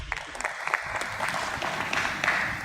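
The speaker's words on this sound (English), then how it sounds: "Let's give a big round of applause to all our speakers" An audience at a stock exchange listing ceremony claps for the speakers, a moderate, steady spread of hand claps with some sharper individual claps standing out.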